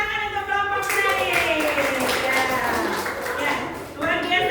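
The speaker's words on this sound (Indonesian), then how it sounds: "kita kasih tepuk tangan untuk kelompok penarik" A classroom of fifth-grade pupils applauds a student group after their magnet experiment, steady dense clapping for several seconds with children's voices and chatter mixed in.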